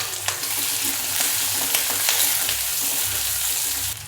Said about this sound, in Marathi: तर कांदा चांगला परतला.